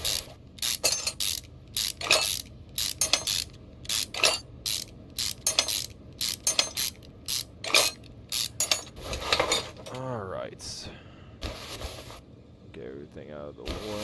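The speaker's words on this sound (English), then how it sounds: "Alright, take the carburetor off." Rapid ratcheting and mechanical clicks come in repeated bursts as a car's carburetor is unbolted and removed in Car Mechanic Simulator 2021, with short pauses and softer scraping toward the end.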